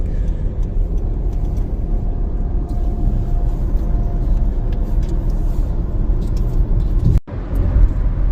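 A Honda HR-V cruising on a long highway road trip from Los Angeles toward New Mexico: a steady loud engine and road drone heard from inside the cabin, continuous with no talk, briefly cutting out near the end.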